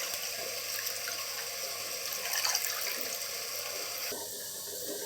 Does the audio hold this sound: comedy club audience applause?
no